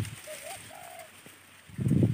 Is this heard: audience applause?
no